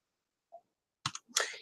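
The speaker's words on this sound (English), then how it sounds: "I am going to click close." A computer mouse clicks the close button in polygon-tool mapping software: a faint tick, then two sharp, close clicks in near silence.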